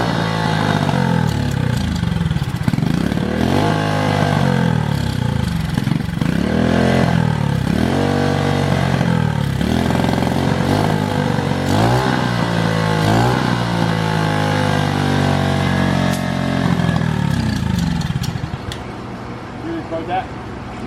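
A turbocharged pit bike engine, with a motor that may be blown, revs hard again and again, its pitch swooping up and down loudly and close by while people talk over it.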